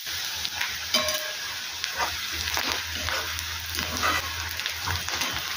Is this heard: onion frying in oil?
yes